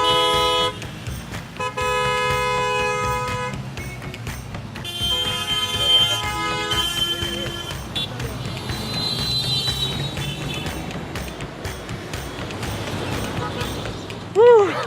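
Busy Mumbai street traffic at a crosswalk with traffic lights, repeated car horn toots and honks layered over engine rumble, loud and close, with some voices mixed in.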